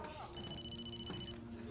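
A telephone rings in a dramatic scene, with a steady electronic warble lasting about a second under overlapping speech and background noise.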